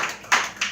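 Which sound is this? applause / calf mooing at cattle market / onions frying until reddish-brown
applause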